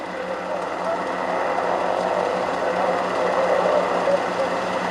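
A Volvo passes another car during an enduro race, its engine a steady, buzzy, rattling mechanical whine at moderate loudness, with a voice running over it.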